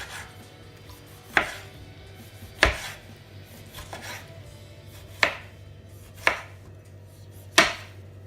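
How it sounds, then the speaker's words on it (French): A knife chops a tomato on a cutting board in six sharp, evenly spaced knocks, close and clear against a quiet kitchen background with no talking. "On coupe le tomate."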